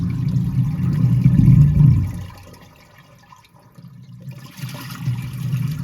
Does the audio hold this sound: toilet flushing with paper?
yes